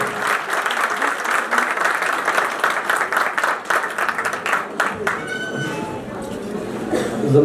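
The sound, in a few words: applause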